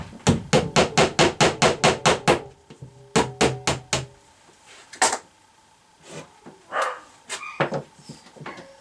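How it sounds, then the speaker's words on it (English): Hammer driving nails into a basement wall, a rapid run of about ten sharp close blows, then a second burst of four, followed by scattered lighter knocks and handling sounds. "Just got to be careful not to put the nails too deep in."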